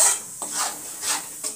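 Spinach and a tomato, ginger and garlic paste being stirred into fried spices in a pan for palak paneer: about four close, rough scraping strokes with a light sizzle, and no talking.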